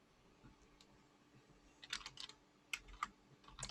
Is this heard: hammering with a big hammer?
no